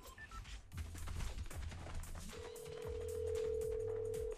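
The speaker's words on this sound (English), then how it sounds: "I'm just going to call your phone." A phone call rings through a telephone line, a steady electronic tone sounding in the second half over faint crackling background noise, with no voices.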